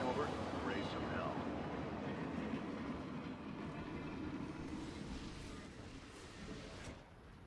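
A rumbling train rolls past in the StarCraft 2 co-op mutation mission Diplomatic Immunity, a loud continuous rattle and roar that fades slightly toward the end, under game voices and effects.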